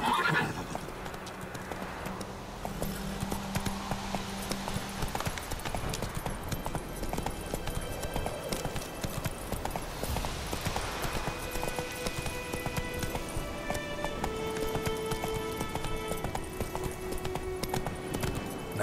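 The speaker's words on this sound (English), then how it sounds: "Run, Roach." A horse in The Witcher 3 video game gallops with rapid, rhythmic hoofbeats and lets out a loud neigh, all over continuous in-game music and ambience.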